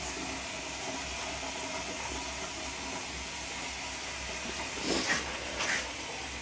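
A pot of salted water coming to the boil for Alpine macaroni, with a steady hiss and bubbling of steam throughout and a couple of brief louder surges near the end.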